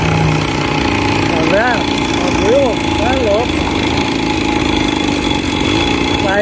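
Engine of a tuned moped, a Mobilete with a Carter 2 carburetor, held at a steady drone with a few pitch swells as it revs under acceleration. The engine runs loud and close throughout, and someone speaks over it.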